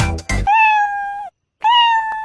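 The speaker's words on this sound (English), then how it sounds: "Mama Ricky is a little cat. All day long she is so happy and she likes to sing like this." A cartoon cat meows in a sustained, sung tone, two long melodic meows separated by a brief silence, preceded by a short burst of other sound; loud and close with no talk.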